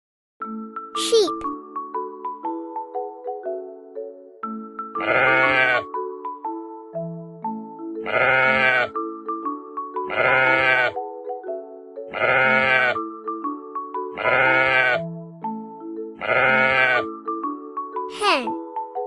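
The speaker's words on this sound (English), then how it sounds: "sheep." Cartoon sheep bleat six times in regular, wobbly calls over a light, melodic children's tune with chiming notes at the start and end, from a farm animal learning song for toddlers.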